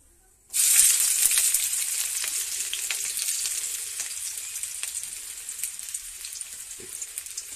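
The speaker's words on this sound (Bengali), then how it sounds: "আলু আর পেঁয়াজ একসাথেই ভেজে নিই আমি" Potatoes and onions hit hot oil in a pan, bursting into a loud hiss that settles into a steady, bright sizzle with crackling pops, close up and alone.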